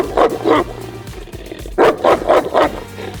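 Deep, loud barking from a large American Molossus guard dog: two barks, a pause, then four quick barks in a row, close and alone.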